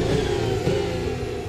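A high-pitched Formula One car engine in the racing game Formula Alpha 2024 drones steadily, loud and close, with a slight rise and fall in pitch.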